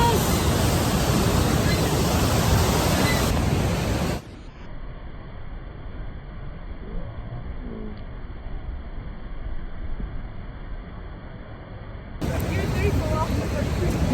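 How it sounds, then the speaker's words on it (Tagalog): Niagara Falls on the USA side roars as a broad, steady wash of falling water, loud and close at first, then dropping to a quieter, more distant rush before swelling back up. "Here is the falls."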